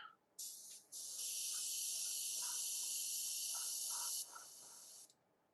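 A spray can hisses in long, steady bursts close by as a second coat goes onto model kit base parts, with a short puff first and then one sustained spray that tapers off, no talk.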